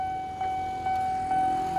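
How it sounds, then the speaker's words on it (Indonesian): A steady electronic warning tone rings continuously, with a brief pulse repeating about every half second, from a railway level crossing alarm sounding nearby as the crossing barrier closes. "sirine JPL sudah berbunyi"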